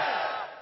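A large political rally crowd shouts a chant in unison, a loud massed roar that fades slightly toward the end.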